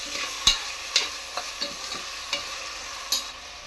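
Chopped onions frying in oil for egg biryani, stirred with a spoon: sharp, regular scrapes and clanks against the pan every half second over a low sizzle, close and without talk.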